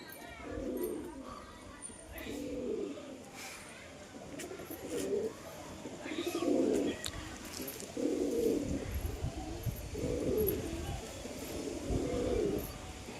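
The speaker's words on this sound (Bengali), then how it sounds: "দেশি গিরিবাজ লাইনে এই যে চারটে কবুতর" Desi Giribaz pigeons coo in soft, repeated low phrases, roughly every second or two, fairly close, with faint background noise and occasional distant sounds.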